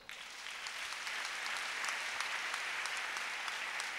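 A church congregation applauds in a continuous, even wash of clapping that stays fairly distant and soft, with no voices standing out.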